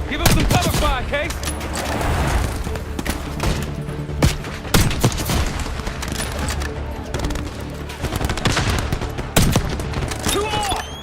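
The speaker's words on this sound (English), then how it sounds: "Give him some cover fire, Case!" Covering gunfire in the Call of Duty: Black Ops 6 campaign: loud, dense bursts of rifle and machine-gun shots with occasional heavy booms, scattered through the battle while voices shout over it.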